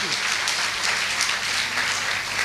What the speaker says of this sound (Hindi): ताली तो बनती है आपके लिए, तालियां बनती है